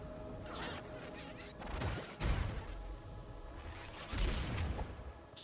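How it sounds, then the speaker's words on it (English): Explosions in the video game Tunic burst out in a few loud, booming hits spread across several seconds over a busy game soundscape. "Explosions!"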